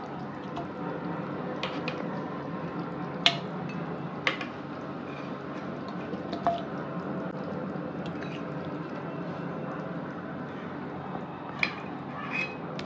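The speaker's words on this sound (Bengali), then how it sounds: "এবার ঝোল থেকে এক এক করে মাংস তুলে নেব, ঝোল ছাড়া তুলে নেব এইভাবে।" Chicken pieces lifted one by one from simmering broth in a pot, with soft bubbling, faint drips and a few sharp spoon clinks against the pot over a steady low background.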